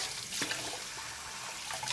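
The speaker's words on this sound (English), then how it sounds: "I'm going to give it a really good wash under a cold running tap" Red lentils are rinsed in a sieve under a cold running kitchen tap, giving a steady close hiss of flowing water with brief splashy swells and no talking.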